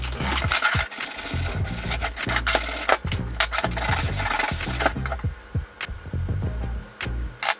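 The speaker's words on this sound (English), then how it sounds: "I'm also going to be sanding down the pieces in any areas that need it." Plastic parts of a Kenner E11 Stormtrooper blaster conversion kit being sanded by hand, close-up scratchy rubbing strokes in uneven bursts with soft knocks as pieces are handled, no talking.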